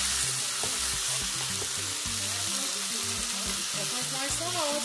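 Broccoli stir-frying in a pan, a constant bright sizzle with light stirring, heard close under background music.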